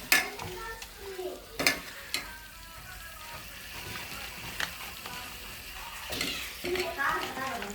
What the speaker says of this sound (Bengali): এই মশলার মধ্যে এখন লাউটা দিয়ে দেব